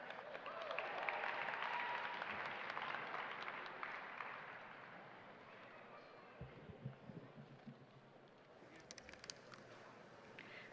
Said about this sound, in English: Everyone's going to clap a long time for you.